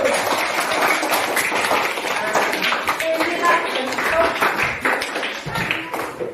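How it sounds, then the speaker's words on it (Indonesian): Dense, steady audience clapping at an Indonesian gathering fills the whole stretch at full strength, with a voice speaking over the applause. "Ya, tepuk tangan dulu"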